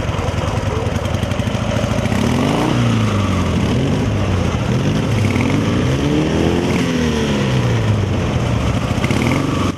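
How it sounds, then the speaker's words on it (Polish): Motorcycles with sidecars roaring past, a loud continuous mix of several engines whose pitch rises and falls as machines accelerate and pass close by, with no pauses throughout. "Warkot silników motocykli słyszany był już z daleka."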